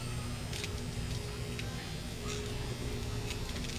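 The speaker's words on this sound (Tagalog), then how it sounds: "Nose hair trimmer, portable and rechargeable." A small portable, rechargeable nose hair trimmer runs with a continuous thin electric buzz, steady and close, with faint background noise.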